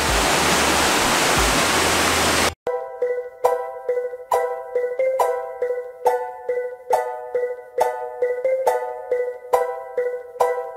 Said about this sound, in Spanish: vamos a conocer las cascadas de Guairapurina